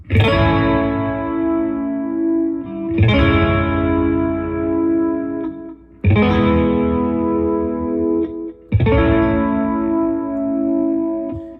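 Four distorted electric guitar chords strummed and left ringing, each struck about every three seconds, loud and alone with no voices.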